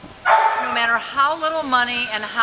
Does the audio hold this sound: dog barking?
yes